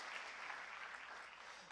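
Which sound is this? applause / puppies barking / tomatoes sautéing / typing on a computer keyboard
applause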